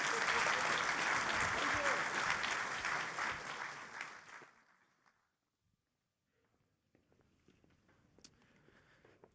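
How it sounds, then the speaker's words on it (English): An audience at the Zabbix Summit 2024 applauds the trainers with sustained clapping that lasts about four seconds, then fades into a near-silent room with a few faint stray sounds. "big round of applause for all the trainers"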